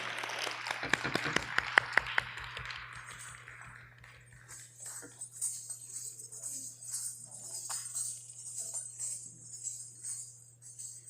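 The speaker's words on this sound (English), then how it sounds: "give a huge round of applause to Vatsala ji" An audience at a Bharatanatyam arangetram breaks into brief scattered applause, a few seconds of clapping that quickly fades into quieter room murmur and faint chatter.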